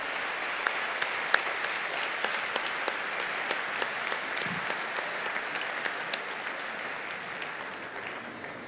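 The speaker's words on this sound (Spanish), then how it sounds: "quiero pedir un fuerte aplauso" Sustained applause from an audience at a fifth-anniversary company event, an even wash of clapping with a few sharp, closer claps standing out early on, gradually tapering toward the end.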